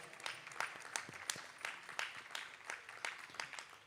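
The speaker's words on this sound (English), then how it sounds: "I think a big round of applause to both of them." Scattered clapping from an audience at a Bharatanatyam arangetram dance recital, soft and distant with uneven individual claps in a steady patter, no voices over it.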